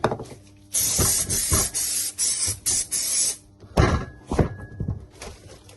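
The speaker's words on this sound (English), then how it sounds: "So, a little bit of spray." Several short bursts of spray paint hiss from an aerosol can, separated by pauses, with light clunks and handling noises between them; close and fairly quiet.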